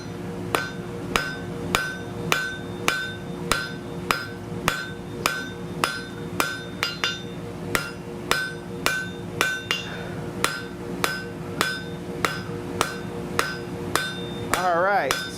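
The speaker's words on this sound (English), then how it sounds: "we're drawing that right back down, working back towards ourselves to roughly 3/8 square or 10 mil square" A hammer strikes a hot steel bar on an anvil as it is drawn down to a smaller square section. The blows ring out in a steady rhythm, about two each second, loud and close, with no talking.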